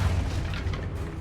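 A single heavy magical blast from the Expulso spell in Hogwarts Legacy, a loud booming explosion that fills the moment and rumbles deep before fading.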